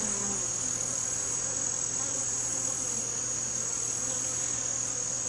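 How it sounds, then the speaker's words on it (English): Dense, steady buzzing of many honeybees fills an open hive during an inspection, a continuous close swarm drone with no talk over it. "Look at all the bees."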